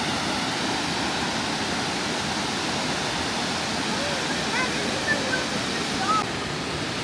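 Steady roar of the waterfall at Blackwater Falls State Park, a dense continuous rush of falling water heard up close, constant and loud with no pauses.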